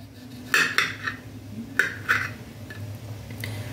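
Boiled tomatoes being cut for a tomato chutney, heard as a few sharp knife taps and clinks against a plate or board, close and spaced irregularly over a quiet room hum.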